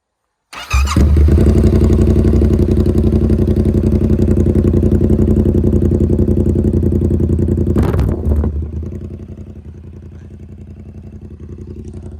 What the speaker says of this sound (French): Là déjà on va filmer un petit démarrage quand même.